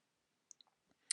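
A computer mouse clicks through a backup wizard: a few tiny faint ticks, then a sharper, louder double click at the end, alone in a quiet room.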